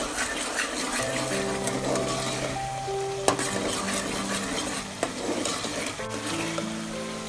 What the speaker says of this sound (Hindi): यहाँ पे देखिए मसाला मेरा बहुत अच्छी तरह से भुन चुका है